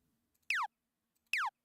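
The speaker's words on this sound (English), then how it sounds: "I don't know what makes a nice laser sound like this." Two short synthesized laser zaps for a space game, each a bright descending pew sweeping downward in pitch, evenly spaced and isolated against near silence.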